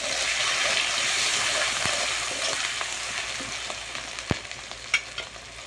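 Cumin, garlic, ginger, onion and tomato fry in hot oil in a pan, giving a steady, close hiss that eases off slightly, with a few sharp clinks of a spoon stirring near the end and no voices.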